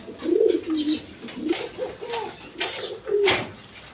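Large-sized pigeons give a run of repeated, close throaty coos, each swelling and fading in a loose rhythm, with no voices.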